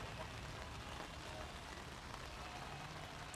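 Steady rain falls across an outdoor field during a men's U23 national softball championship game, a continuous broadband hiss of drops on surfaces with faint crowd or commentary murmur beneath.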